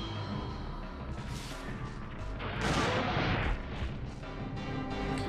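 Gunfire in the survival horror video game Dino Crisis 2, a dense run of game shots and crashing impacts over a constant roar of game sound, peaking in a louder burst midway.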